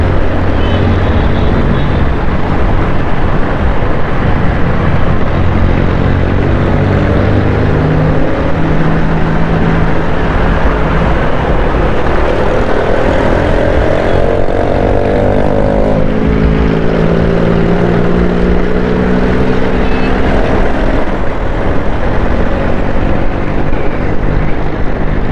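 A motorcycle riding fast along Rashid Minhas Road in Karachi in the evening, its engine droning steadily and loudly throughout with shifting pitch and heavy wind and road roar, no talk over it.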